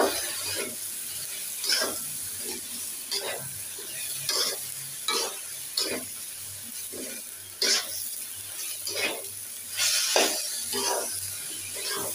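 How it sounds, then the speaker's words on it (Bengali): Rice fries in ghee in a pan with a constant near sizzle, broken by regular spatula stirring scrapes roughly once a second, with no one talking. "এখন এই যে চাউলগুলো ভেজে নেব"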